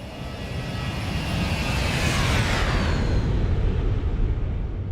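A Boeing 737-800 flies by in the X-Plane 12 video game, its jet roar swelling from a low rumble into a loud rushing whoosh with a falling whine as it passes close, then fading.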